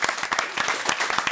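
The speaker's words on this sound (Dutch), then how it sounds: "Nog even een applaus" Crowd applause at a Frisian sports broadcast event, quick rhythmic bursts of clapping from many hands, fairly close and continuous for a short stretch.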